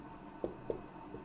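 A pen writing on paper during a handwritten exam-suggestion lesson: two quick, soft scratching strokes and a fainter third, close up against a quiet room hum.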